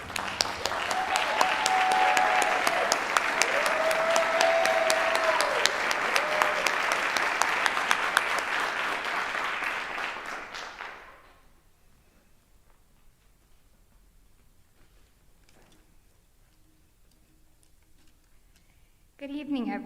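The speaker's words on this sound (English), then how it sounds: "A big round of applause to our graduates." A crowd at a nurse practitioner graduation hooding ceremony claps loudly and steadily for about ten seconds, then the applause fades out into near silence before a voice begins.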